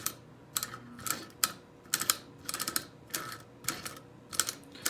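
A Marx prewar 999 toy train locomotive motor sputters in uneven bursts of buzzing and clicking, starting and stopping repeatedly as it struggles with poor electrical contact, close and fairly quiet.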